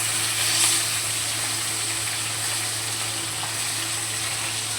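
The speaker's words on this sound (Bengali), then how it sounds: "দেখো এক পিঠ ভাজা হয়ে গেছে, তো অন্য পিঠটাকে উল্টিয়ে দিচ্ছি" Fish frying in a pan, turned over onto its other side: a steady, close hiss and sizzle of hot oil running without a break, with a small spatter early on.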